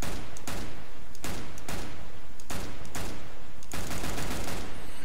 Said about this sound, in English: The Tech-9 sound has been updated.